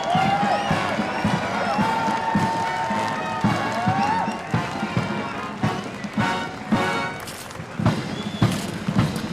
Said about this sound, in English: I'm hearing the crowd applaud the Ukrainian detachment.